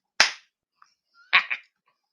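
Two sharp smacks ring out, one alone and then a doubled hit about a second later, crisp and close with silence around them.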